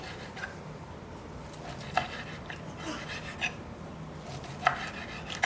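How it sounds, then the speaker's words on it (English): A knife slices across the grain of a medium-rare, reverse-seared tri-tip from a Traeger grill, giving several crisp, close cutting strokes at an uneven pace over a quiet background. "now we're gonna cut against the grain"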